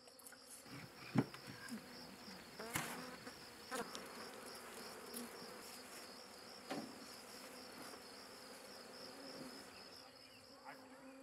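Honeybee colony buzzing around hives, a faint, steady insect drone with a few sharper sounds from nearby.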